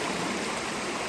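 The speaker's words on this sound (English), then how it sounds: "We're going to show them this little creek and waterfall." A small creek tumbling over a little waterfall near a lake campsite, a steady, close rushing splash of flowing water with no voices.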